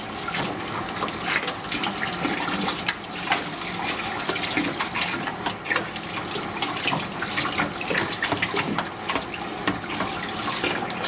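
Tap water runs steadily while a hand towel used for cleaning a bike helmet is rinsed in a sink. The splashing and gurgling is close, continuous and fairly loud, and no one speaks.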